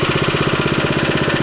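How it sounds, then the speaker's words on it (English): Small engine on a sand-grooming machine, ripcord-started, idling close by with a steady, rapid chugging pulse. "Grab your ripcord and pull to start the machine."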